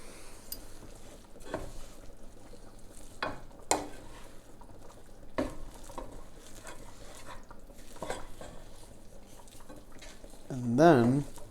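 Rice with butter and salt is stirred gently in a pan, making soft, sparse scrapes and taps with a low background hiss, and a brief voice sounds near the end.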